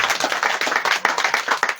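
A crowd at a church association's gathering in Issia claps for their visiting founding president, brisk, uneven hand claps close by and steady throughout, with no talk over them.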